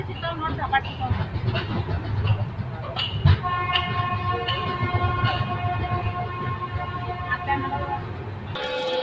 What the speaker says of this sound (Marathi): गाडी आपली ऑन टाईम दौंड जंक्शनवरती आलेली आहे